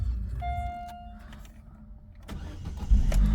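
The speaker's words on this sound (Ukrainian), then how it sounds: "Автомобіль заводиться без проблем, ніяких помилок по ньому немає." A Chevrolet Nubira car engine cranks over and catches, rising from a quiet mechanical start into a louder, steady running rumble near the end.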